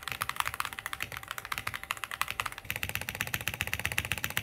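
Rapid, even clacking of typing on a mechanical keyboard fitted with a built-in screen and knob, close and crisp, with a slight change in key tone partway through and no talk.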